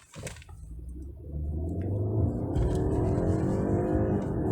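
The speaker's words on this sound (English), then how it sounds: "This is a very, very punchy engine" A 2021 BMW 520i Sport engine in Eco Pro mode starts low, then swells into a strong, sustained acceleration, revs climbing smoothly and loudly from inside the car.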